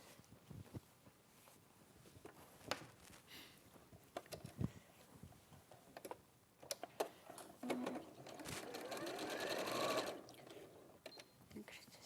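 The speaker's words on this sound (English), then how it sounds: "So I'm gonna top stitch it to that line" Domestic sewing machine top stitching folded fabric, quiet bursts of rapid needle stitching building toward the end, with brief pauses and faint voices between runs.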